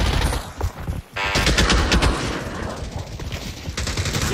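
Gunfire in the VR shooter Pavlov: rapid automatic bursts and overlapping shots, loud and close, continuing almost without pause after a brief drop near the start.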